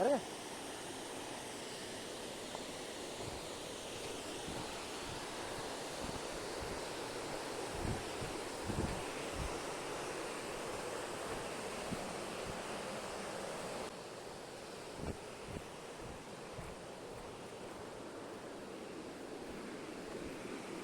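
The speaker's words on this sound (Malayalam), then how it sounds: "ഇതായി കാണുന്നതാണ് ചെറിയൊരു വെള്ളച്ചാട്ടം" Constant rushing of a small waterfall, a steady broadband roar with occasional low thumps and wind buffeting, heard close up.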